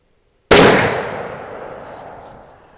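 A muzzleloader rifle firing a Federal BorLok bullet during accuracy testing gives one sharp, loud, close shot. A long reverberant tail fades over the next two seconds.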